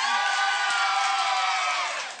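A studio audience on a Brazilian TV show cheers and shouts for a contestant in a costume contest, producing a dense, loud, continuous crowd roar that tails off slightly at the end.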